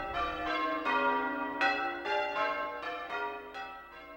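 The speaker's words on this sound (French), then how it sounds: "la musique des cloches" Church bells ring in a steady sequence, each strike blooming into a long, rich resonant tone that overlaps the next, with no voices.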